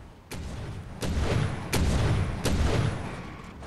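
Rockets launch from a commandeered vehicle in the shooter Wolfenstein: The New Order, four sharp evenly spaced blasts, each followed by a rumbling rush.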